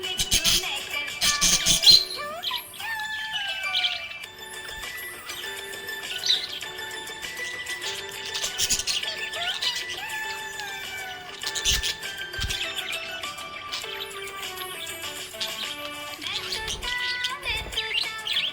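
A happy budgie chirps and tweets in a busy run of bright, rapid calls and warbles, fairly close, with a few louder squawky bursts mixed in.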